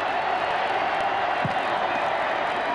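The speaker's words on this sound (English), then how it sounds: "Before a record Orange Bowl crowd." Record crowd at the 1995 Orange Bowl football game between Nebraska and Miami, a steady broad roar of cheering held at constant loudness throughout, with no distinct speech.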